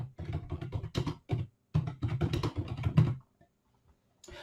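Fingers clatter across a computer keyboard in quick bursts of keystrokes, with brief pauses between runs, then fall silent before a few more keys are pressed at the end.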